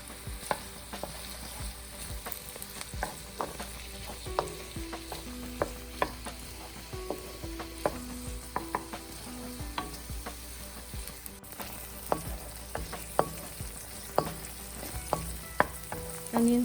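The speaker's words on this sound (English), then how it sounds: "I'll fry these onions till they're translucent and soft" Chopped onions frying in ghee for an Indian chicken tikka masala, a steady soft sizzle with repeated clicks of a spoon stirring against the pan, close and with no voices.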